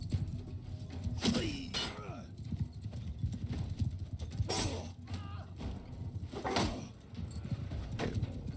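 Horses gallop with a steady clip-clop of hooves in the Viking battle game War Sails Viking, occasional whinnies rising over the rhythm while someone talks throughout.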